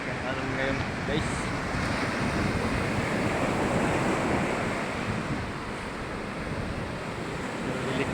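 Large ocean waves roll in at a beach: a loud, continuous roaring wash of surf, heavy with wind buffeting the microphone and no clear break.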